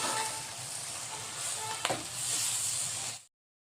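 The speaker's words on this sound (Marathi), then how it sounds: "त्याला छान परतवून घ्यायची अशी." Steady sizzling and crackling of greens sautéing in a pan without water, with a brief clatter of stirring partway through before it cuts off.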